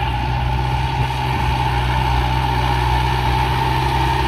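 Türk Traktör TD90D tractor engine working steadily while pulling a five-furrow plough, a constant low diesel drone with a steady mid-range hum throughout, close and alone with no talk.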